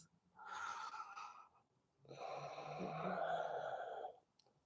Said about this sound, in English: Take 3 deep breaths and your 10 seconds will be done.